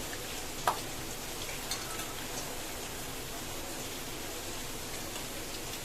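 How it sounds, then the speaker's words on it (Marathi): Homemade papad fries in hot oil, a steady, quiet hiss of sizzling that runs throughout, with a couple of faint clicks near the start and no talking. "आता पहिल्यांदा मी पापड तळणार आहे"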